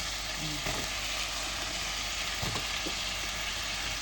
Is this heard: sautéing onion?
yes